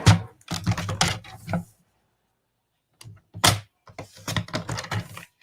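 A paper trimmer cuts a sheet of cardstock to 5 1/4 inches in a crafting session, giving a few quick, close clicks and slides in two short bursts separated by a brief pause.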